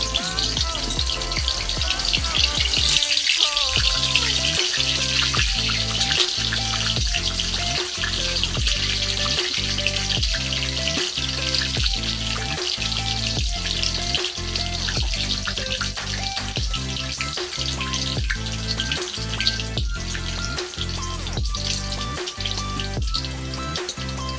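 Bay leaves and dried red chilies sizzling in hot oil, a steady close crackling hiss with rhythmic stirring or tapping, with no talking.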